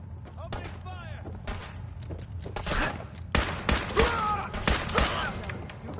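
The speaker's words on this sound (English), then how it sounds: "Opening fire!" Gunfire in Fallout 4, a run of sharp loud shots in uneven bursts, clustering heavily toward the end, mixed with brief in-game voices between the shots.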